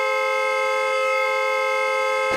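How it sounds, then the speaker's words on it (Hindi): A parked car's horn blares continuously at steady pitch, loud and unbroken for the whole stretch, with no voices. "कौन है ये नॉन स्टॉप हॉर्न बजा रहा है"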